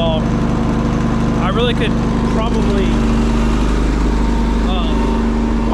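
Duromax XP16000IH portable generator running steadily in low idle mode, a constant close engine hum throughout, with a person speaking briefly over it.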